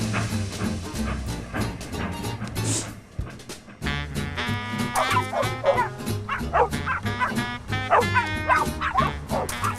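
Dog barking and yipping in a lively cartoon-style effect, several short barks and whimpers over a busy music bed, brief pause near the third second before the barking resumes.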